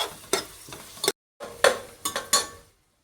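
Chopped onion sizzles in hot tempering oil for a Malvani-style chicken curry while a spatula scrapes and clinks against the pan in several separate stirring strokes, with brief pauses between them.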